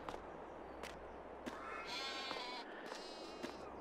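Sheep in Farming Simulator 22 give a wavering bleat, faint and moderately distant, over soft clicks and light background noise.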